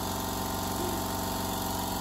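An air compressor runs steadily with a nearby motor drone and pump pulsing as its tank nears full, drawing around 780 watts; the steady hum holds unbroken throughout with no talk.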